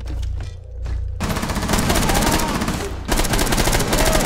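Gunfire in Rainbow Six Siege sounds as loud, rapid automatic bursts, a short opening burst, a brief gap, then sustained fire with a quick pause before another stretch, close and dense.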